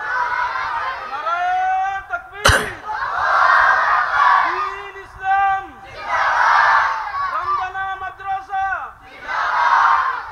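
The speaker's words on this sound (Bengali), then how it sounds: "একবার তাকবীর দেন, নারায়ে তাকবীর।" Large crowd at an outdoor Bangla Islamic sermon gathering answering a preacher's call with loud unison takbir chants, three or four surging roars of massed voices repeated in rhythm, with a sharp burst near the start.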